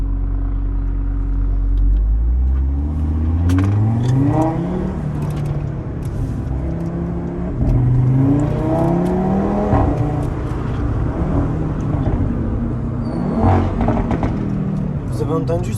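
A loud Audi RS3 engine revs repeatedly in Dubai, rising and falling in pitch with a deep rumble throughout, close by and running without pause.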